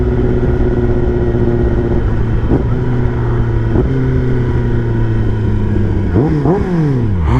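A 2023 Kawasaki ZX10RR sport motorcycle is ridden with a loud, steady engine drone heard close from the rider's position, holding pitch before rising and falling quickly through several gear changes near the end.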